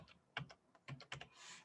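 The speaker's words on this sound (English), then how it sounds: "I start typing the next one." Keys tapped on a computer keyboard while entering data in an Excel spreadsheet, a few quick clustered clicks in uneven bursts, close and fairly quiet, with no talking.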